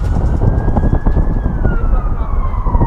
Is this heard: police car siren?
yes